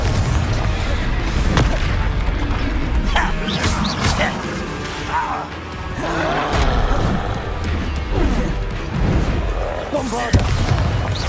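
Confringo fire spell blasts in Hogwarts Legacy, a dense run of booming explosions and crashing impacts over continuous game combat noise and effects, loud and close, with spoken voices mixed in.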